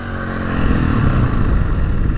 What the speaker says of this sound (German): der Motor wird nicht lauter, nicht schneller, der dreht immer gleich.